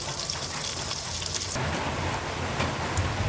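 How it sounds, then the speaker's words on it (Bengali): Chopped onion frying in soybean oil in a pan, a dense, steady sizzle and crackle that grows slightly louder partway through, with no voices. "এখন আমি পেঁয়াজটা একটু হালকা ভেজে নিচ্ছি।"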